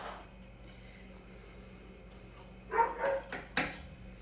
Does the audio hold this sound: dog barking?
yes